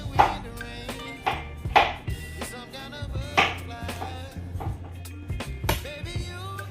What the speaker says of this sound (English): We're going to cut our sweet pepper. Cut them in cubes.